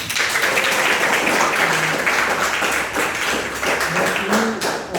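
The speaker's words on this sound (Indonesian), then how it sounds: "Tepuk tangan dulu untuk Stefani." A classroom of students clapping, dense and uneven, lasting several seconds with a few louder claps standing out.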